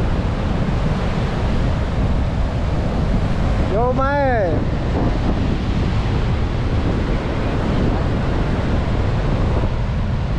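Rough sea at a beach during the stormy season where nets are hauled near shore, waves and wind roaring constantly and loud, with a brief shouted voice partway through.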